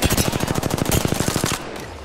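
A fast, loud automatic weapon fires a steady stream of evenly spaced shots during a video game firefight, roughly a dozen and a half rounds in quick rhythm before cutting off, with no talk.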